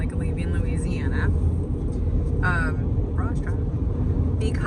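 A Budget rental truck with underinflated tires drives along a road leaving Louisiana, a steady low rumble of engine and tire noise filling the cabin while people talk over it.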